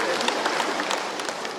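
Church congregation at a regional government grant handover clapping together, a steady dense wash of applause that holds evenly for the whole short stretch.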